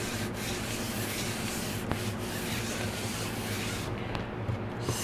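A bone folder rubs firmly back and forth over paper glued onto a tissue box, producing a steady, close scraping and brushing sound with occasional small taps and no talking.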